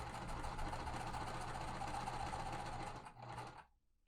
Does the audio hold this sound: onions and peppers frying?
no